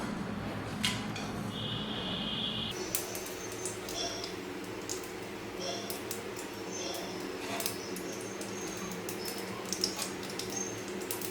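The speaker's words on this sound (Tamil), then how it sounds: "இப்போ கடுகெல்லாம் நல்லா வெடிச்சு வந்துருச்சு" Mustard seeds spit and pop sporadically in hot oil while making rasam, a scatter of sharp crackles over a low, steady kitchen hiss.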